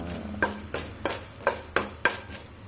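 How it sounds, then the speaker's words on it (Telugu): Urad dal and chana dal roasting dry in a pan, stirred with about six evenly spaced scraping clinks of a spoon against the pan over a faint sizzle, close and alone. "మినపప్పు, శనగపప్పు కొంచెం వేసుకొని బాగా దూరగా వేయించుకోవాలి."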